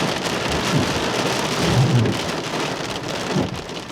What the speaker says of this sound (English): So you can see down there the hail bouncing around.